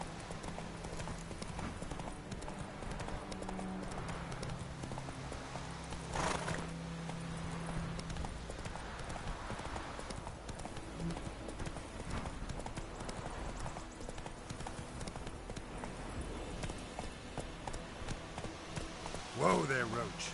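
Hooves of the horse Roach clip-clopping in the Witcher 3 video game, a steady trotting rhythm under continuous background game sound and talk, with a brief whinny near the end.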